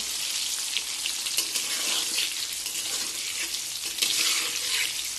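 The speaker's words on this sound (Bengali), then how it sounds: "চিকেন কষা বানানোর জন্য আলুগুলো ভেজে নেব" Potatoes for chicken curry fry in hot oil with a loud, continuous crackling sizzle close by, with occasional spatters and stirring scrapes and no voices.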